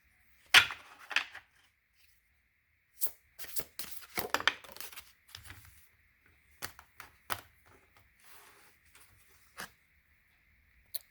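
Tarot love cards being shuffled in a series of sharp, papery riffles and slaps, some bursts close and crisp with quieter rustling between them, and no voices.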